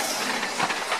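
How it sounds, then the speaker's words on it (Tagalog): A train in an audio drama sounds as it departs, with a dense, continuous rumble, rattling wheels and a hissy wash, loud and close with no voices over it. "Paalis na ang tren!"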